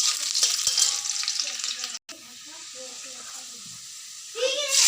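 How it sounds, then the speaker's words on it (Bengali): Spices sizzling in hot oil with soybean chunks and onion, a bright crackling fry that stops for a moment, returns quieter, and then swells again near the end. "মশলাটা ভেজে নিই।"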